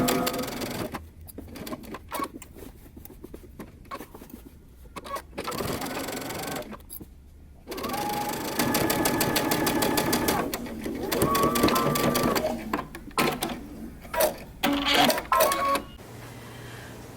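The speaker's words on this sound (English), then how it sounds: "we're going to sew along the edge on both the sides," A sewing machine stitching along the edge of a dress pocket, the close rapid mechanical chatter running in several stretches, starting and stopping, while someone speaks over the first part.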